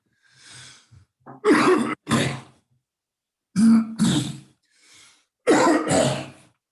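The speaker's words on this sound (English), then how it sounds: "That was not a COVID cough, if you're curious." Close, loud coughing and throat clearing come in three clusters of two or three hacks each, with quieter breaths in between.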